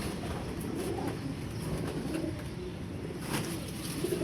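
Pigeons kept in a loft coo softly and repeatedly against a steady background hiss, low throaty calls recurring through the stretch.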